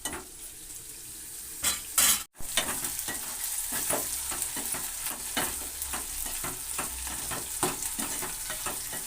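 Onions frying in the oil tempering for khara pongal sizzle steadily in a pan, with repeated scraping clinks of a metal spoon stirring and one sharp clatter of cookware, close up and without talk.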